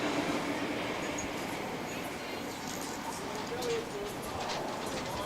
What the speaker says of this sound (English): The train goes past.